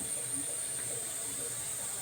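Pressure cooker whistle venting steam while khara pongal cooks, a steady faint high-pitched hiss held without a break, with a low background rumble and no voices.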